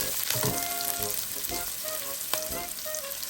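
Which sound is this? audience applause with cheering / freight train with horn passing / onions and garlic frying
onions and garlic frying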